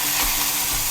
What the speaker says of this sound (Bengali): এর মধ্যে পেঁয়াজ, আদা এবং রসুনের পেস্টটাকে দিয়ে ভালো করে